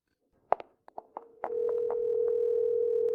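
A telephone call placed and left unanswered: a few sharp button clicks, then a steady, unbroken line tone that holds on alone at close range.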